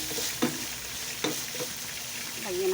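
Chicken pieces seasoned with bouillon cubes and pepper fry with a steady background sizzle in a pan, while a few brief stirring scrapes and clatters cut through at irregular moments.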